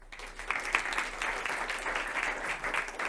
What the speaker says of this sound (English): Welcome, and big round of applause for you